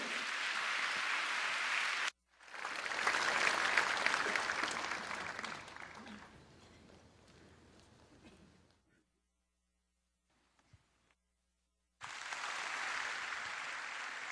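A church congregation claps loudly in sustained applause that fades out, then a quiet pause, and clapping resumes at the end over a faint hum.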